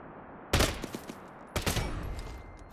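Two bursts of rapid gunfire from the shooter game Lost Light, each a sharp crack followed by a short rattling spray, sitting over a low hum of background noise.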